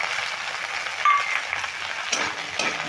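Washed green peas go into a pan of frying onions while cauliflower roast is cooked, a brief close sizzle and rustling stir with a sharp clink near the middle.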